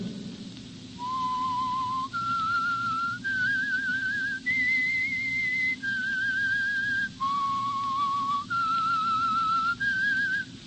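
A lone whistled theme for the old-time radio mystery show The Whistler, a slow eerie melody of about eight sustained, steady notes that step up and down in pitch, clear and close over a faint background hiss.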